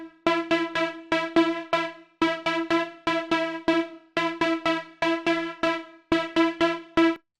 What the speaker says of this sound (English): the first sound that we're going to dive into is an Afro House top lead